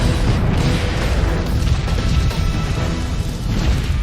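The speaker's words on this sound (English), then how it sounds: "Artillery stockpiles are set off, shooting skyward and touching down across the city, causing a deadly chain of explosions." Chain of explosions at an ammunition depot, with artillery stockpiles detonating across a city: a continuous, loud, low rumbling roar of blasts that runs throughout without a break.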